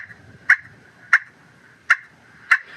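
Four sharp, evenly spaced yelps of a turkey hen imitated on a Pistol Creek pot call, each a bright, clipped note standing out clearly with no talk.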